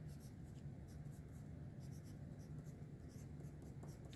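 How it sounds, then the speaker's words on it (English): A marker scratches across paper in short, steady strokes, close and soft over a low background hum. "I'm gonna write painted on here."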